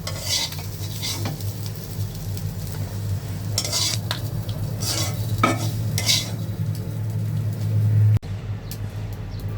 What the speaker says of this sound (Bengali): অনেক সুন্দর করে আমি চিংড়ি মাছের সব কিছু ভাজা নিছি